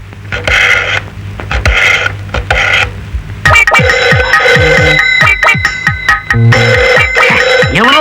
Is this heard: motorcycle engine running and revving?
no